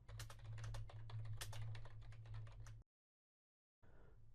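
Rapid keystrokes on a computer keyboard while typing a comment: a quick, fairly even run of close clicks lasting almost three seconds, then silence and a faint room hiss.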